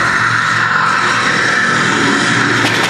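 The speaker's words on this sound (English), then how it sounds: "You hear planes approaching." A loud, steady fighter plane engine roar in a theme park attraction fills the whole clip without letting up, close and continuous.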